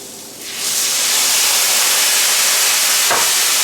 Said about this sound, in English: So now I'm going to deglaze the pan with some vermouth.